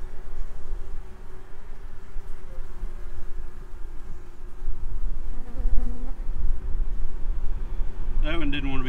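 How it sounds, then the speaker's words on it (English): A small honeybee swarm buzzes steadily and fairly close, with a continuous droning hum under low wind and handling noise, and a brief sharper whine near the end. "It's a little swarm, but a swarm nonetheless."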